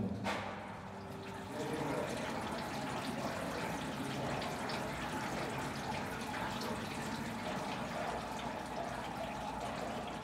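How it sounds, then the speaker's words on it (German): Ice wine juice drips and trickles from a wine press, a steady close splashing run of liquid that starts with a sharp knock and continues evenly throughout, with no voices. "Dann endlich die ersten Tropfen, die ersten Rinnsale."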